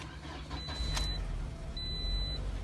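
A 2018 Toyota iM engine running at a steady close idle, a continuous low rumble with a thin high-pitched electronic tone that comes and goes over it.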